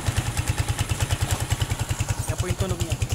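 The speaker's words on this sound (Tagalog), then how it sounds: "Napakaingay po para may lato-lato sa loob ng makina." A motorcycle engine runs steadily with a loud, rapid rhythmic knocking clatter from inside the engine, close up and alone.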